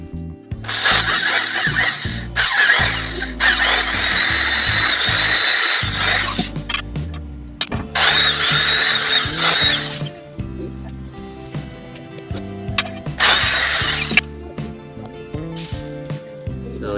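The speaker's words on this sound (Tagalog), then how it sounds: "So, syempre gagamit po tayo ng barena." An electric drill with a 1/8-inch bit bores through a plastic ballpoint pen, whining loudly in several long bursts separated by quiet pauses and small handling clicks.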